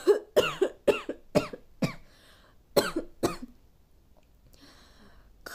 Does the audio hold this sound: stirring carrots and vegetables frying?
no